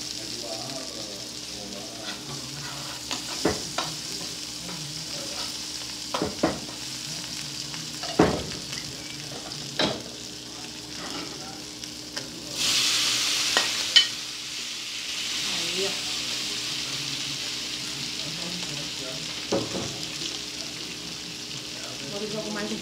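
Food frying and being stirred in a home-cooked lunch pan, a steady sizzle with sharp scrapes and clinks of the utensil at intervals and a louder hiss burst partway through.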